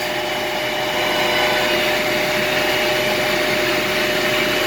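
A pellet die machine runs in a beef cattle feed plant, pressing hot feed material at very high pressure; a loud, steady mechanical roar and whine holds evenly throughout with no pauses or speech.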